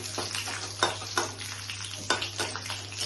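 Bay leaf, dry red chilli and cumin sizzling in hot ghee, a steady crackling fry with several sharp spattering bursts and light stirring scrapes.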